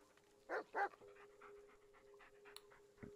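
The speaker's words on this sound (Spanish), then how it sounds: "Venga, venga, perrito." Dog panting in the Blair Witch video game: two quick, moderately close breathy pants, then softer panting and a faint whimper under a steady tonal hum, all fairly quiet.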